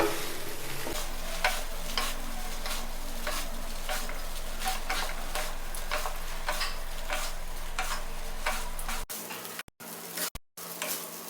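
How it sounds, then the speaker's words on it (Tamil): A spoon scrapes steadily and rhythmically through raw mango rice in a hot pan, with a soft sizzle underneath; the stirring stops near the end, leaving brief silence. "ரைஸை சேர்த்துட்டு எல்லாத்தையும் ஃபுல்லாக இது மாதிரி மிக்ஸ் பண்ணிக்குவோம்."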